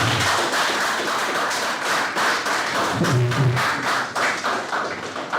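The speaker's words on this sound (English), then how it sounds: "Don't stop clapping. Please continue clapping." A crowd claps steadily for a former Deputy Governor of Lagos State at a Fafunwa Educational Foundation gathering, dense and sustained with a few heavier thumps mixed in.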